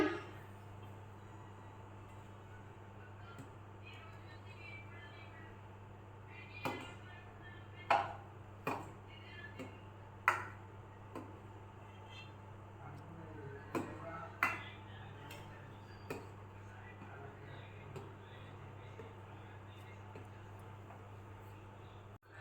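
A spoon stirs kheer made with bottle gourd in a pot, producing scattered knocks and scrapes against the metal in an irregular rhythm over a low steady hum, moderately close and fairly quiet.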